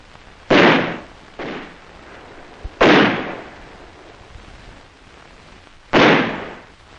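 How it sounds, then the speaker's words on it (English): Mortar rounds and small arms fire strike around a self-defense corps post under construction during the Vietnam War, three loud booming blasts spaced seconds apart, each rolling off into a short echoing tail, with a fainter pop between them. "subjected them to harassing mortar and small arms fire"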